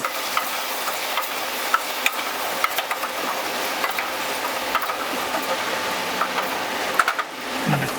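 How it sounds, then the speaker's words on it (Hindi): Potatoes tossed with turmeric and salt are stirred in a pan for masala aloo, producing a low steady sizzle broken by frequent light scrapes and clinks of the spoon, close up and without speech. "इसके बाद हम इसे अच्छे से मिक्स करेंगे"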